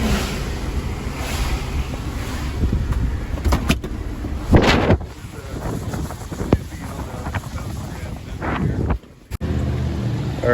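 A stock vehicle drives along towing a Subaru Impreza with a manual transmission, loud road rumble and wind buffeting on the microphone throughout, with brief sharp knocks and a short dropout near the end.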